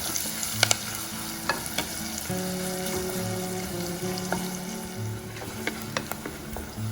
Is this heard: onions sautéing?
yes